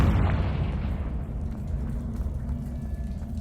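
Confringo spell blast in the video game Hogwarts Legacy: a heavy low boom bursting at the start, then a long rumbling roar that fades slowly, with no voices over it.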